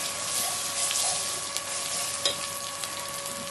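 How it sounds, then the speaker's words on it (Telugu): A continuous rushing splash of three glasses of water being poured into a pot of mutton dalcha, close and steady, with a faint tonal hum behind it. "నేను 3 గ్లాసులు వాటర్ పోస్తున్నానండి"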